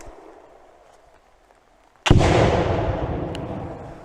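A FORT-600 Gen.2 airsoft grenade launcher fires a grenade with a single sharp, loud boom outdoors, followed by a long rushing decay, after a few seconds of quiet background.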